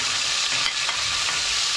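Prawns, squid and monkfish fry in a pan with a loud, steady, dense sizzle and hiss that never lets up, along with faint stirring, heard close and with no talk.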